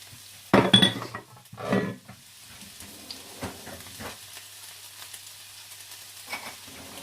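Onions dropped into hot vegetable oil in a pot give a loud burst of sizzling, then a second swell as they are stirred, settling into a softer steady frying hiss with occasional utensil clinks.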